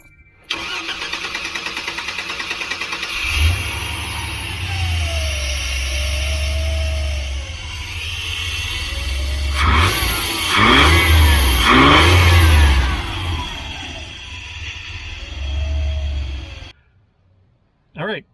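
A van's engine runs unevenly after a fuel system fix, its low rumble surging and dipping in repeated cycles, loud and close, with a brief rev near the middle before the engine cuts out at the end.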